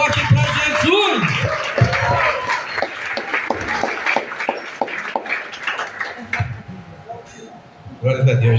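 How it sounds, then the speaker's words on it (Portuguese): A church congregation at a family worship service led by a men's ministry claps loudly for Jesus, dense applause with cheers and a voice speaking over it. "aplauda bem forte para Jesus"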